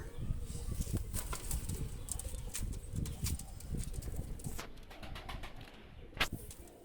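Flapping wings of a pair of young pure Banaras pigeons as they are released, steady fluttering and rustling close by with a few soft coos mixed in, and no talk.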